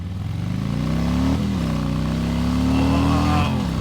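A Harley-Davidson M8 Softail with a Rinehart 2-into-1 exhaust rides past close by, its deep loud engine note holding steady, dipping briefly, then pulling strongly again.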